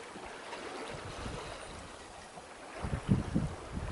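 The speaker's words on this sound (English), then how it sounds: "there is no sound except the water" Water washes and gurgles along the hull of a sailboat sailing alone on the open sea from Nuku Hiva to Tahiti, a soft, steady rush with a few louder sloshes near the end.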